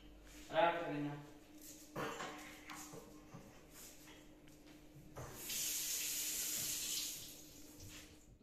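Tap water runs into a sink in a rented room in Poland, a steady hiss rising for a couple of seconds while a person talks nearby before and during the flow.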